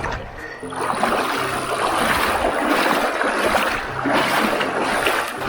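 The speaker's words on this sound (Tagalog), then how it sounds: "Pang-walong tawid ilog." River water rushes and splashes around a bicycle during a river crossing on a 60 km gravel ride, a loud, dense, continuous wash with no talking.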